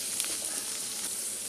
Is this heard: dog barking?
no